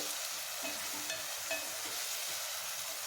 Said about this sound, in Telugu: స్టవ్ మీడియం ఫ్లేమ్ మీద ఒక 10 నిమిషాలు వేపించుకుంటే మెత్తపడిపోతాయి టమాటాలు, ఉల్లికాయలు అన్నీ.